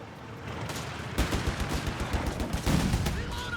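Machine gun fire in Company of Heroes 3, a .30 cal and a Browning .50 cal heavy machine gun, rattles in steady rapid bursts amid ongoing battle noise, loudest in the second half.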